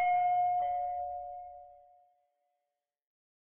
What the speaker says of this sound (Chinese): 就在这个时候，外面传来了门铃声。